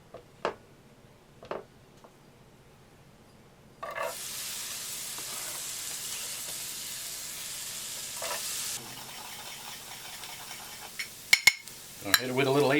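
Leftover pork carnitas hit a buttered griddle with a sudden loud sizzle that holds steady for several seconds, then eases to a quieter crackle, with scattered clinks and scrapes of a utensil before and after.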